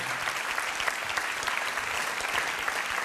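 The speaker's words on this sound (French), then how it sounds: "applaudissements pour nos amis du premier rang qui ont beaucoup d'humour et qui ont accepté de répondre" An audience at the Casino de Paris applauds during a 2008 comedy show, a dense, even burst of clapping that fills the whole three seconds without any talk.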